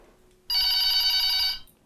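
A telephone bell rings once in a single loud, sustained electronic trill of about a second, close and alone against near silence.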